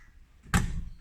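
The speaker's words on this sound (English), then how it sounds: "I will then open the door" A door on a powder coating oven opening with a single sharp clunk midway, followed by a brief rumbling scrape, close by against a quiet background.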